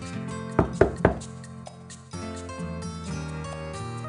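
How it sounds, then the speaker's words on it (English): Three sharp knocks on a door in a cartoon puppet-theater game, evenly spaced and loud, sounding over soft background music with no talking. "she heard the knock on the door"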